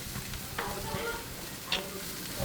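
Tomahawk steak searing on a flaming grill at a birthday feast in the Philippines, a loud close crackling sizzle with a couple of brief sharp flare-ups, no talk.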